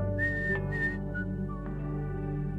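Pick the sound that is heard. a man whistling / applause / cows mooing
a man whistling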